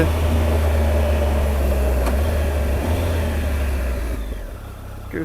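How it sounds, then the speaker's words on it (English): A 2018 Triumph Tiger 1200 XRt motorcycle engine runs steadily at high revs at night, its low drone dipping briefly between quick clutchless gear changes before easing off near the end. "just going through the gears"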